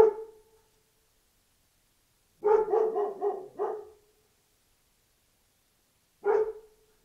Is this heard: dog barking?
yes